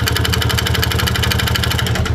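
A Yamaha Vega Force motorcycle engine with a rough internal fault runs loud and close, a steady fast-pulsing throb with a gritty rattle under the exhaust note.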